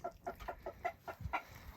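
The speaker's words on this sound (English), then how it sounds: "The chickens are starting to go in there for the night." Chickens settling into their new coop at dusk on a woodland homestead give a run of soft, rhythmic clucks, close and quiet, with a few overlapping calls.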